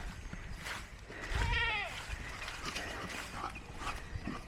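A goat on a farm gives a single loud, wavering bleat near the middle, close by, over a low outdoor rumble and scattered background noise.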